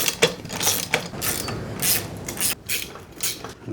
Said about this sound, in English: Flat washers and nylon locking nuts. Again, I'm going to run these down,